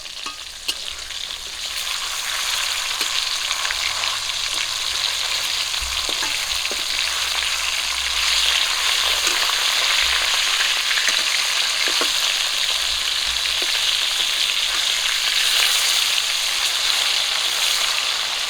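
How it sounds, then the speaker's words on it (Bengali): Hilsa fish fry in hot oil with a loud, steady sizzle that builds within the first two seconds and then crackles on evenly throughout. "তেল গরম হয়ে গেছে মাছ দিয়ে দেবো"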